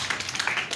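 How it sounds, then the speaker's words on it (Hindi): Brief burst of loud clapping from a class of students, dense and continuous for under a second. "एक जोरदार ताली तो बजनी चाहिए।"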